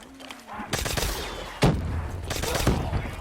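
A PPSh submachine gun fires in Call of Duty Black Ops 3 Zombies on a swamp map, loud rapid bursts of automatic fire with sharp louder shots, close and dominant, with faint speech early on.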